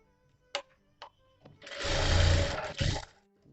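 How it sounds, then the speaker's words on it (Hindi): A sewing machine stitches the seam of a princess cut blouse in a sustained burst of about a second and a half, after a few short clicks and taps, with no talk. "ये देखिए एक दाब के हम इस पर इस तरीके से सिलाई लगा देंगे।"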